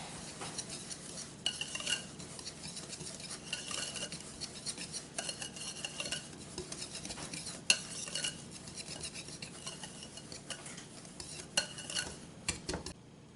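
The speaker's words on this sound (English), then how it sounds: "Now I'm going to whisk these dry ingredients all together here." Dry ingredients for a lazy cobbler, about half a teaspoon of salt among them, whisked in a bowl: a steady scraping swish with sharp clicks of the whisk against the bowl, fairly quiet and close, with no voices.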